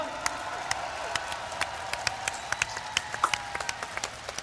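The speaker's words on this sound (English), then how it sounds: "I want you to give him a big round of applause" An audience at a talk in Taiwan claps in a sustained round of applause, dense and steady with sharp individual claps standing out, no voices over it.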